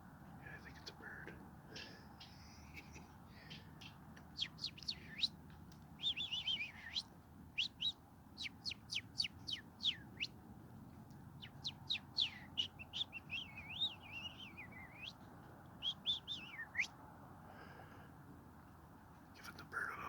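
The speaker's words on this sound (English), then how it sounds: "I think it's a bird" A bird chirps and tweets in a forest while someone stalks a black bear, with quick bright calls in scattered bursts over faint rustling and soft whispering nearby.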